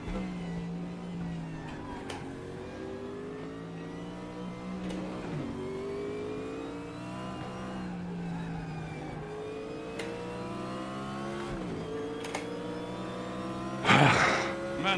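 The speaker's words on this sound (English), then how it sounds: "Weird to hear a car pitting" A race car engine in a video game, a GTO in RaceRoom, revs up repeatedly, pitch climbing and dropping through gear shifts, with a brief burst of noise near the end.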